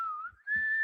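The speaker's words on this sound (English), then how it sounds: "It's it has the nice whistling in the back." Whistling from a TV show's opening theme, a single clear sustained whistled tone that dips briefly and then rises and holds steady, heard on its own without talk.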